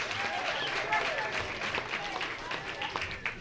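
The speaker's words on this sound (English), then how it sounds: "another round of applause for our winners" A crowd applauds the puzzle contest winners at an outdoor puzzle unveiling event in Washington City, Utah, steady clapping under talk.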